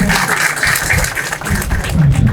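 Applause from a meeting audience of rural doctors welcoming Professor Kodandaram, a steady wash of many hands clapping for a couple of seconds, loud and close with a faint murmur beneath.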